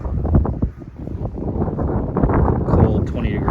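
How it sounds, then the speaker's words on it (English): Strong wind roars outdoors in snow before sunrise in 20-degree cold, buffeting the microphone with a continuous low rumble that swells and dips, and a voice may be faintly mixed in. "it's pretty windy right now"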